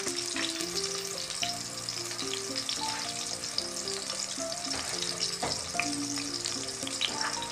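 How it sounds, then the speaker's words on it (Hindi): Onions frying in a pan for a couple of minutes to take off the rawness, a continuous close sizzle with scattered pops, no voices. "इसे हमने 2 मिनट तक इसको फ्राई किया है प्याज को।"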